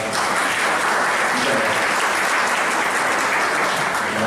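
Applause from an audience at a tax education seminar on the 2020 tax reform, welcoming a speaker from the tax secretariat, a loud, even wash of many hands clapping without pause.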